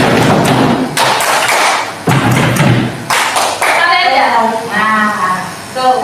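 Hands slap a table and clap in quick pairs during a classroom positive-discipline exercise. The sharp, close thuds come in repeated doubles, and voices are heard underneath toward the end.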